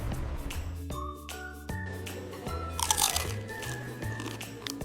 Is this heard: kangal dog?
no